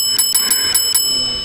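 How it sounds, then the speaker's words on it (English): A short notification bell chime sound effect, ringing about five times in a quick even rhythm, bright and clear with no talk. "please don't forget to ring that little bell."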